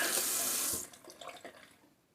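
Water runs from a tap to wet an alum stick, a bright steady close-up splash that cuts off abruptly after under a second, followed by faint handling noises.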